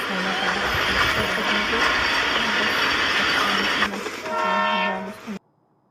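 A train rumbles past loudly and steadily, then a long horn blast sounds near the end before the noise cuts off abruptly into silence.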